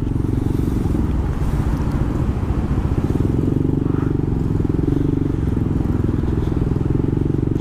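A 2020 Yamaha NMAX scooter moving through heavy stop-and-go traffic on EDSA, with a steady close engine drone and buzz mixed with surrounding road and vehicle noise, no talking.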